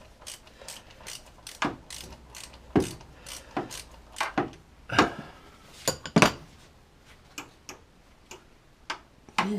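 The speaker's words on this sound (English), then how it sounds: "So I just have to keep on with ratchet." A ratchet clicks in quick irregular bursts, loosening a fitting on the water pump of a 2004 Vauxhall Corsa C; the sharp metallic ticks sound close, with short pauses between runs and no speech.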